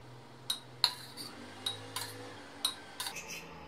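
Several small lime pieces drop one after another into a mug, giving about six light, sharp clinks spaced irregularly over a few seconds in a quiet kitchen.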